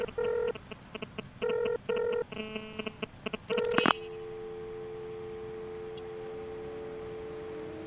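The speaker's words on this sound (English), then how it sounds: "she hits a redial to call Galt." A phone being redialed in an audio drama gives a quick run of keypad tones in uneven bursts for a few seconds, followed by a steady ringing-line tone over a quiet hiss.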